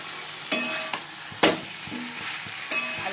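Cauliflower florets and potatoes fry in a pan, a soft sizzle broken by several sharp stirring clatters and scrapes, close and with no voices.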